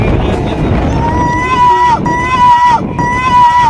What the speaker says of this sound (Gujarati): માણસને ધક્કો મારી દે એવું પવન છે